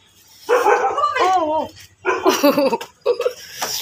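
A dog barks and yelps in a few short, excited bursts close by, with a voice mixed in among the calls.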